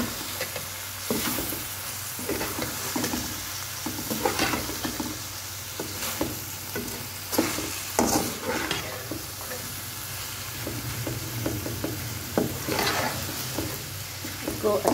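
Boiled macaroni and peas stirred into a frying masala with black pepper, a continuous close sizzle broken by repeated spatula scrapes and clatters against the pan.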